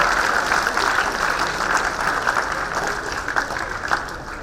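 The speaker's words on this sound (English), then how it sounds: "Students, can we have one more round of applause?" Continuous applause from a sizable crowd of students at a fintech conference, steady and fairly close, clapping evenly throughout without pause.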